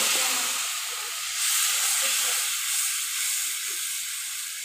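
Spice masala with ground cumin fries in a hot pan, giving a loud, steady sizzling hiss that swells slightly and then settles.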